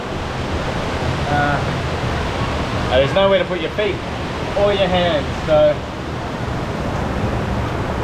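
Water pours down a waterfall at Bell Gorge on the Gibb River Road, a steady broadband rushing roar that persists close by under someone speaking intermittently.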